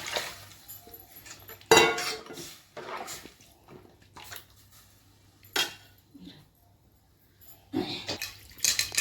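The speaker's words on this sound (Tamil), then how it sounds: "தேவையான தண்ணி ஊற்றிக்கலாம்" Water poured and splashing into a pot of masala for murrel fish curry, with intermittent clinks of metal utensils in a quiet kitchen.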